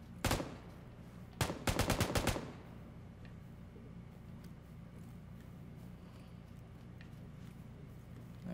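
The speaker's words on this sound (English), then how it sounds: "Where are those shots from?" A single gunshot in a video game, then a quick burst of about five rapid shots a second later, sharp and fairly close over a low, steady background hum.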